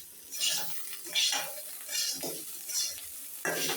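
Crushed garlic being stirred into a cooking vegetable mixture in a pan, with soft repeated scraping strokes and light clinks of a utensil against the pot, roughly one every second, close by and without talk.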